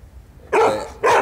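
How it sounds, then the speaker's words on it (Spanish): Small dog on a rooftop terrace giving two loud, close, high-pitched barks in quick succession, the second following a short pause, with no talk over them. "Mira cómo ladra"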